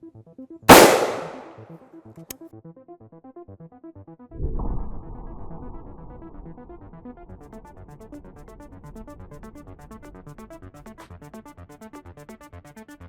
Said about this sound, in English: So we'll take a shot from the 16-inch because we know it will penetrate.